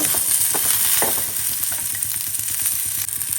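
Onion frying over a low flame in a pan gives a steady close sizzle throughout, with light scrapes of stirring and no voices.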